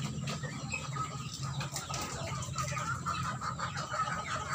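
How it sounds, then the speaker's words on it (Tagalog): A flock of chickens clucks continuously while being fed together with ducks, with brief wing flaps among the dense, close-up chatter of calls. "Inaagawa ng mga manok namin sa bibi, oh."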